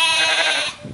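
A flock of sheep bleats in a Dagestan pasture during seasonal migration to mountain meadows, several voices overlapping in a steady, loud chorus that thins toward the end with scattered quieter calls.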